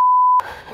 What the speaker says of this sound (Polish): Pierwszy raz będę musiał tutaj takie piknięcie.